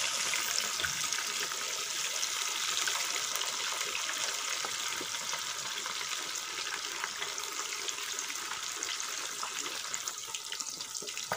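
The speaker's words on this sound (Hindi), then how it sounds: "हमारा घी तैयार हो चुका है। इसमें हम मछली डालेंगे और फ्राई करेंगे।" Pieces of fish frying in hot ghee, a steady broadband sizzle and crackle that runs unbroken throughout at close range, with no voices.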